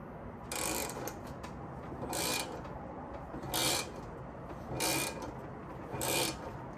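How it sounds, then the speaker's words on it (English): A wrench tightens the front bolt on a Honda CRX wheel bearing, giving five evenly spaced bursts of quiet metallic ratcheting that are close and fairly soft, with no one talking. "then you just tighten this front bolt, and I have a crescent wrench on the back end to hold that nut"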